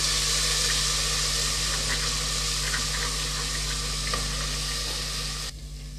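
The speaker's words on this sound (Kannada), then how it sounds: "ಈಗ ಹಸಿಮೆಣಸಿನ್ಕಾಯಿ ಪೇಸ್ಟು ಇದು ಹಸಿ ವಾಸನೆ ಹೋಗೋವರೆಗೂ ಸ್ವಲ್ಪ ಫ್ರೈ ಮಾಡ್ಕೊಳ್ಳೋಣ" Green chili paste fries in a pan with a loud, close, continuous sizzle and faint stirring clicks, then drops off sharply near the end.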